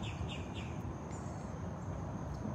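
Faint, repeated high chirps from a bird screaming at a distance over a steady background rumble, at Big Cat Rescue.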